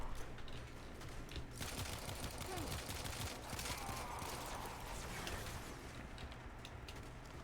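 Dense, continuous gunfire in the Warframe video game during a boss fight, a steady rattling barrage of shots layered with game effects and background noise, loud throughout with no clear pauses.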